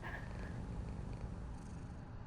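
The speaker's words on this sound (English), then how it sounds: "Oh, you're so soft, and you're purring." A cat purrs in a steady, low, continuous rumble close to the microphone, soft and even throughout, with no speech over it.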